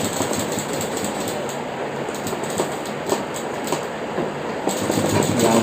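A sewing machine stitches the back pocket of a pair of pants, running with a steady rapid rattling hum and faint rhythmic ticks throughout.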